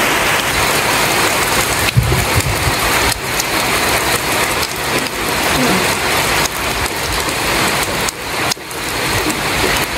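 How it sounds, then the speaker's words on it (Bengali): Heavy rain falls hard and loud in a continuous roar of drops drumming on surfaces, with small rattling spikes and dips throughout. "কি বৃষ্টি নামলো রে, দুনিয়া ধরা বৃষ্টি"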